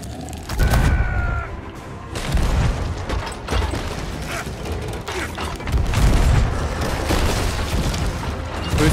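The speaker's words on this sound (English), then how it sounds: "I'm shooting cannons." Ship cannons firing during a naval battle in the video game Sea of Thieves, a series of loud booming blasts and thuds packed close together over busy game noise, with faint voices now and then.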